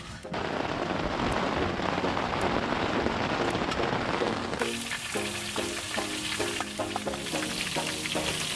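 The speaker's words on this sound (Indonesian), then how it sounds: "Ini kita mau masak tempe goreng." Tempeh sizzles and crackles loudly in a hot pan at a mountain camp, with a sudden shift midway as the frying noise changes texture.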